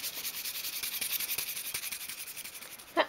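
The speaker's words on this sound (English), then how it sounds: "you can sand that over to prepare it for wood dye" Sandpaper rubs over a small wooden bench piece for a 1/12th scale dolls house, giving steady, close, repeated scratchy strokes with one sharper scrape near the end.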